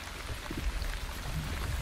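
A short, soft trickle of water pours in the village-building game The Wandering Village, a faint continuous splashing stream lasting under two seconds.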